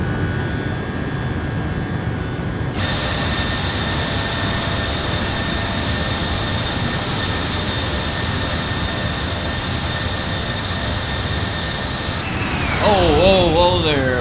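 A PMDG 737-800 jet engine in MSFS spools up, a loud steady roar with a rising high whine that swells, staying loud and close throughout under a talking voice.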